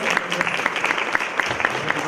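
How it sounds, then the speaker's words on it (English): A short spell of audience applause at a LETRS literacy training session, with a few sharp individual claps standing out above the general clapping. "Join me in a round of applause and thank you, Gay"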